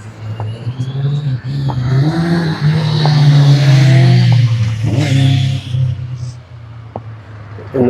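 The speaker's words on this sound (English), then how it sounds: "And noisy bikes as well." Loud motorbikes rev and pass along a busy resort street in Puerto del Carmen, engines rising and falling close by for several seconds amid steady street noise.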